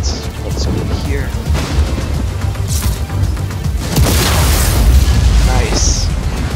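A video game explosion booms out over dense game noise, a broad sustained blast swelling loudly near the middle of the clip while a player talks throughout.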